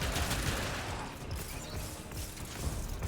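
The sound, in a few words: rapid gunfire from a weapon in video game Warframe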